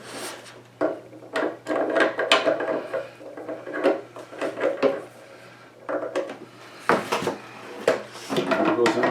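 Bolt of a Bergara B14 HMR rifle being worked by hand, a series of metallic sliding and clicking strokes repeated in an irregular rhythm, close and fairly quiet.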